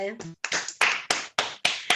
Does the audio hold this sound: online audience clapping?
yes